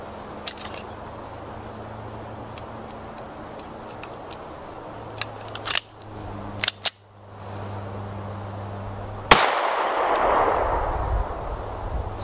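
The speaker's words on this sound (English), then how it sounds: "We're going to shoot it from 5 yards into our ballistic gel and see what we get." A single 9mm Grizzly 115 grain hollow point round fired from 5 yards into ballistic gel, one sharp loud report near the end after quiet ticking and small handling clicks, followed by an echoing rumble.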